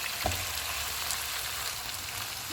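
A steady, close sizzle of meat being browned in a hot pan on full heat for dal gosht, a continuous crackling hiss with no voices.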